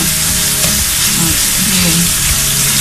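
Loud, steady sizzling of crushed garlic, ginger and green chillies frying in a hot pan, a dense crackling hiss up close with faint stirring underneath.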